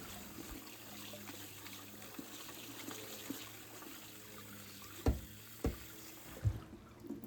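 Goat liver and lungs rinsed under running tap water, a faint steady trickle with several sharp splashes and knocks toward the end, close by with no talk.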